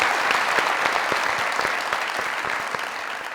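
A studio audience at a Pakistani comedy talk show applauds, a loud sustained round of clapping that continues evenly and eases slightly toward the end.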